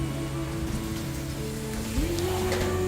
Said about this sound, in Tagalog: Ayun ang umuulan na naman po.